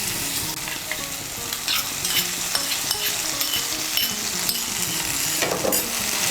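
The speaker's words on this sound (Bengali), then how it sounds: "মিশিয়ে নিয়ে একটু ভেজে নেব" Spice paste with ground melon seed, poppy seed and cashew paste stirred and fried in a pan for potol chingri, a steady close sizzle with scraping spoon strokes throughout, no talk.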